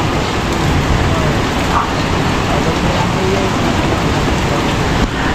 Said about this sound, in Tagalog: ang lakas pa rin ng ulan dito